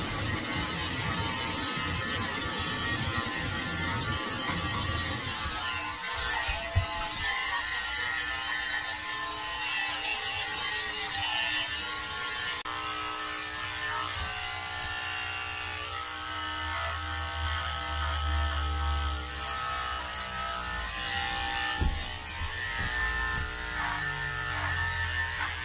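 Electric clippers with a 10 blade buzzing steadily as they shave a Pomeranian mix dog's neck around a flea collar, a close, continuous motor whine that shifts in tone as the blade moves through fur.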